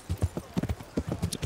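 Horse hooves clip-clop in a steady walking rhythm while riding in the video game Kingdom Come: Deliverance, the close, even thuds carrying alone and clearly.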